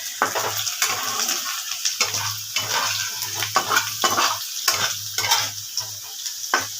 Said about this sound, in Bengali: এই আলুগুলোকে একটু আমি লাল লাল করে সরষের তেলেই ভেজেছি